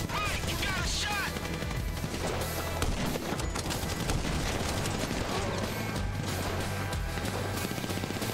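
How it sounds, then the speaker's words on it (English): Sniper and other gunfire in Grand Theft Auto V crackles in rapid bursts under a steady wash of game noise and music, with some talk mixed in. "Sniper fire!"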